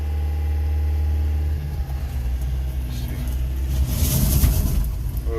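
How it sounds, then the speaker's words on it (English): A John Deere minitruck's engine idles with a low steady hum, then shifts into reverse and backs out over gravel; the motor note roughens and brief tire or gravel noise rises near the end, close and fairly loud. "We're gonna go into reverse and we'll back out of here."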